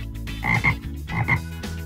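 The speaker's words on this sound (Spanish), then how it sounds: "¡Es una rana!" A toy frog gives two pairs of ribbity croaks, loud and close, with a short gap between the pairs and no talking.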